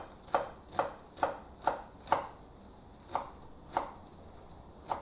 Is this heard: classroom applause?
no